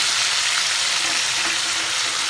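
Minced mutton keema frying in a pan with salt, turmeric and garam masala being mixed in, giving a dense, steady sizzle that stays close and loud throughout the short stretch.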